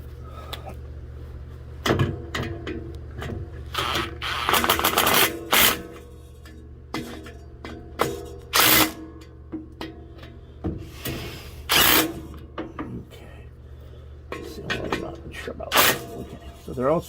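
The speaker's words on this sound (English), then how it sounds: "Let's hit them with the impact to get them nice snug." An impact wrench snugging bolts on the rerouted exhaust of an Onan generator on a 2022 Tiffin Allegro RV, repeated short buzzing bursts under a steady low hum, with people talking between bursts.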